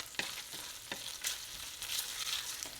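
Fried rice sizzles in a cheap skillet while being stirred, with a steady hiss and scraping strokes at irregular intervals, close up and with no talking.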